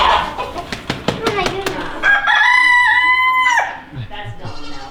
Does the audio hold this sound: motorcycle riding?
no